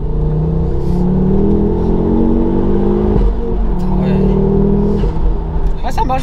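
A Ford Focus RS MK2 with its five-cylinder engine pulls hard from inside the cabin, the drone climbing steadily in pitch, easing briefly, then rising again, with people talking over it.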